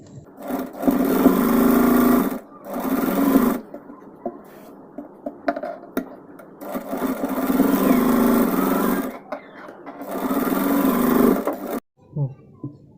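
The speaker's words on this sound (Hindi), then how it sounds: "अब मैं इसको ऊपर से सिलाई लगा दूँगी।" A sewing machine stitches the shoulder seam of a crop top in loud close bursts of rapid, even whirring, pausing between runs while someone talks quietly in the gaps.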